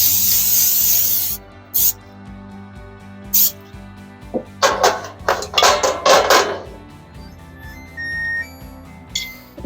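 Short hissing bursts of cooking spray on a cookie mold for sun and moon cookies, close by, followed by clinks and rattling of metal pans and utensils.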